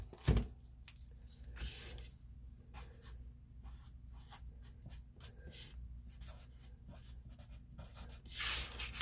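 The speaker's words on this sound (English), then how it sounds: "So I'm going to write that down." A pen scratches across paper in close, continuous strokes with short pauses, soft and alone.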